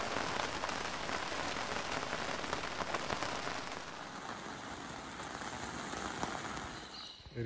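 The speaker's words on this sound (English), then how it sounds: "It is still raining," Steady rain patters on a surface close by at a riverside campsite on the Murray River, a dense continuous drumming that thins slightly toward the end, with no voices.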